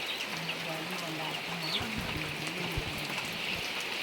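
Rain falls steadily as a continuous hiss across the whole stretch, with a low voice murmuring faintly underneath at times.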